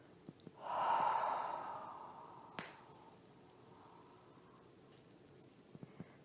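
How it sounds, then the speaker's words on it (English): A long, soft breath flows out during a yoga exercise, close and breathy, swelling then fading over a couple of seconds, followed by a small knock and quiet room tone. "Now we're going to exhale."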